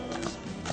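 A hippotherapy horse, sixteen years old, moves with soft clip-clopping hooves, close and steady beneath a constant background hum across the short stretch.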